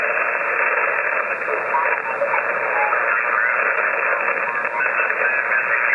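Steady hiss of static fills a ham radio receiver tuned to 160 meters lower sideband, a constant, band-limited rush with no breaks, loud and close, with no clear signal cutting through.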